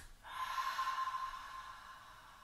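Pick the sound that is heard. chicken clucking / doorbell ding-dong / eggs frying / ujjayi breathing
ujjayi breathing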